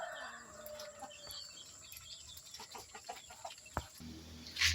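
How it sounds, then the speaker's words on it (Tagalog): Faint chickens cluck and call in an outdoor farmyard, scattered soft clucks with birds chirping and a brief rustle near the end. "Ito yung ibang manok."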